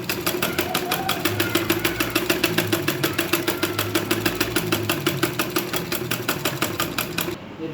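A sewing machine stitches a hook strip on a blouse, its needle hammering in a fast, even mechanical rhythm close up, running steadily and alone before stopping abruptly at the end.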